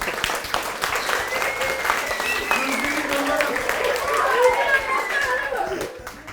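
Students in a middle-school drama class applaud, a sustained spread of clapping mixed with children's chatter and excited voices throughout, fading slightly at the end.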